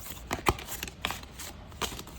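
Tarot cards shuffled by hand at close range, a run of soft papery riffles and flicks with a few sharper snaps, irregular in rhythm and fairly quiet.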